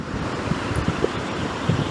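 Sea waves breaking at the shore where fishing boats launch, a dense roar of surf mixed with gusting wind buffeting the microphone, loud and continuous.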